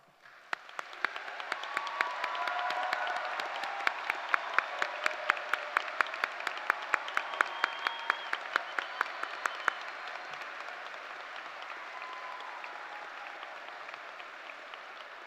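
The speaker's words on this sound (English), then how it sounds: "We ask those graduating with honors to stand and be recognized with a well-deserved round of applause." Commencement ceremony audience at Keystone College giving honors graduates a round of applause, a broad crowd clapping that swells quickly and holds steady for about fifteen seconds with some sharp individual claps standing out.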